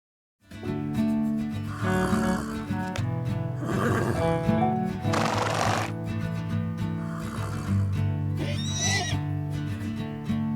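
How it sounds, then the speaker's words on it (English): Horses in a barn at morning feed give out several loud, drawn-out neighs and whinnies close by, with shuffling and stable noise underneath. "I actually have to do morning feed now for all of the horses"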